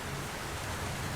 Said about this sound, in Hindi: बारिश का पानी पूरा घोंसले में आ रहा है।